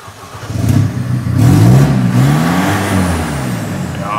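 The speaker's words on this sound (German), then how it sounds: "Jetzt lassen wir mal laufen den Wagen und hören mal, wie der läuft" A car engine idles and revs with a damaged exhaust, giving a rough, throaty rumble that rises in pitch as it is revved. The sound is loud and close, with a workshop setting around it.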